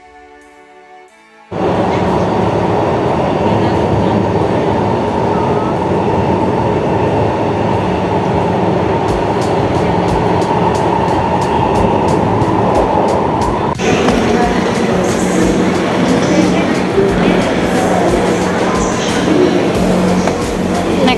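A Singapore MRT metro train runs under way. After a quiet moment, a loud, steady interior rumble takes over, with rhythmic clicking from the rails and a shift in tone partway through the ride.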